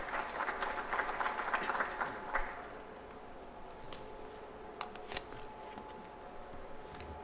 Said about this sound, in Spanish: Un fuerte aplauso también para él, por favor.